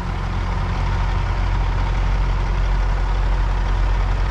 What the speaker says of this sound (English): Got a Peterbilt here dumping off.